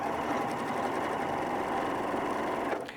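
A Janome 9410 sewing machine runs a back stitch in a steady, close, loud mechanical whir that holds without a break before stopping abruptly near the end.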